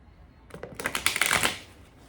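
Tarot cards being shuffled by hand, a quick riffling flutter of card edges that rises and fades over about a second, close and alone without speech.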